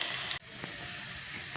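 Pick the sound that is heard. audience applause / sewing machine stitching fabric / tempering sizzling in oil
tempering sizzling in oil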